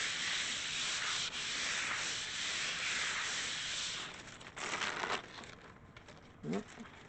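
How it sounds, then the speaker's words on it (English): Steady, close rubbing and scraping as a hand presses a gel print firmly onto paper, a continuous dry swish that turns into a few shorter strokes and light paper rustles near the end. "now we're going to really rub this"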